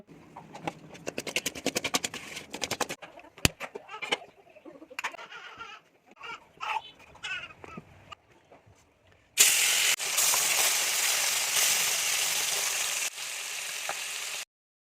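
Bata fish rubbed with salt and turmeric frying in hot oil: scattered clicks and light clatter at first, then a loud, continuous broadband sizzle that holds steady for several seconds before cutting off.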